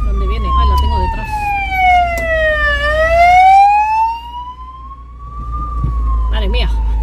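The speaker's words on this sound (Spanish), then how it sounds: "justo hay una ambulancia" An ambulance siren wails loudly in long rising and falling sweeps as it passes close by a car on the road. It is heard from inside the vehicle over a steady low engine rumble.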